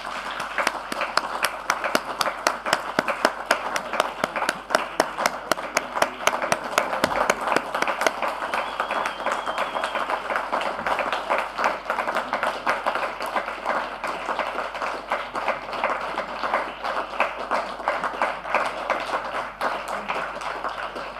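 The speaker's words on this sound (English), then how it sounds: "A huge round of applause," A large audience in an auditorium at an economic conference at IIT Madras claps steadily for about twenty seconds, a dense, even patter of many hands close and continuous without pause.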